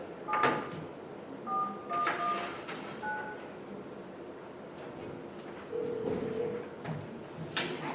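A desk telephone is dialed during a council meeting, giving several short, separate tonal beeps spread over a few seconds against a faint room background with soft handling clicks.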